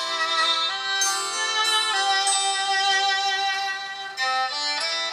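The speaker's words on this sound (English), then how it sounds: "So this is the sound of the OnePlus One." Music plays through the speakers of a OnePlus One smartphone: a loud, continuous melodic passage with clear sustained notes and shifting chords.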